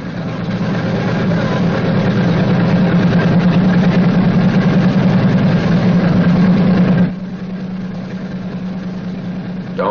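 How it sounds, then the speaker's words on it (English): An engine on a Boeing B-29 Superfortress bomber runs with a loud, steady low radial-engine drone, then the sound abruptly drops to a quieter idle near the end. "continue to prime intermittently until the engine is running smoothly"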